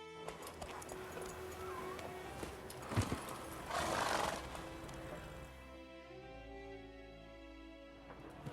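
In The Witcher 3: Wild Hunt, a rider's horse trots and gallops with clip-clopping hooves, snorting and whinnying partway through, over a rumbling in-game backdrop.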